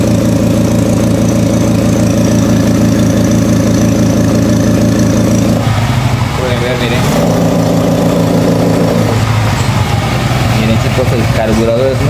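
Honda Elite scooter engine with a new carburetor, idling loudly and steadily up close before faltering and sputtering unevenly, then catching again, with a person speaking over the engine noise.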